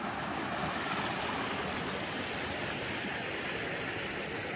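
Water runs steadily over stones set in the ground to stop erosion, a continuous broadband rushing wash at low level with no voices over it.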